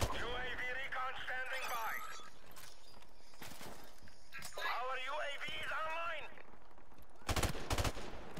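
Gunfire from a weapon in the Modern Warfare Remastered video game: a single sharp burst near the end follows stretches of several people talking over faint game noise.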